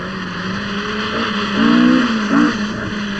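A 1980 RAC Rally car's engine drones steadily close by, then revs up twice in strong surges before settling back, with no voices over it.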